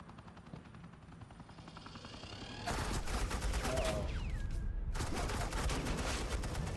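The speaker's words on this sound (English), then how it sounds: "suppressing fire" Suppressing fire in Batman: The Enemy Within breaks out as a loud, continuous rattle of rapid automatic shots. It is heard over a low helicopter-like drone, with a brief gap before the fusillade resumes.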